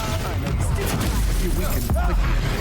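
Bombarda blasting spell explosions during combat in Hogwarts Legacy: a couple of bursts and cracks close up, mixed with shouting voices and battle noise.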